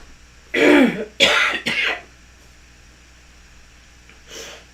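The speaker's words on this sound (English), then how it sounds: "it's going to throw me into a coughing fit" Three quick, rough bursts of coughing and throat clearing close by, then a pause and a softer cough.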